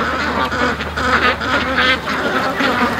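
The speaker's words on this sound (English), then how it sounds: "these ducks are enjoying this beetroot like way too much" Ducks quack in repeated loud bursts close by as they eagerly eat beetroot garden scraps during a morning feeding.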